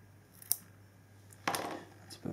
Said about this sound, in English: so we have enough there for me to actually cut this piece off